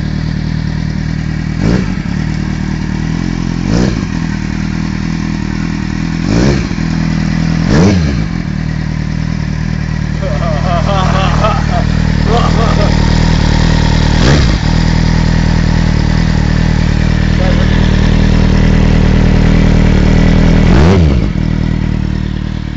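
A Kawasaki Z750S Supersport motorcycle rumbles loudly and steadily close by through its exhaust, with a regular series of sharp revs blipping above the idle.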